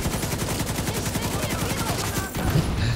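Rapid automatic gunfire in The Division 2 video game, a steady close burst of shots that breaks off near the end into a muffled thump.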